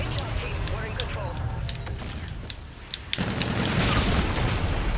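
A rocket launcher round explodes during a Call of Duty: Infinite Warfare match, a dense booming blast with scattered gunfire and crackle around it, amid ongoing battle noise and some talk.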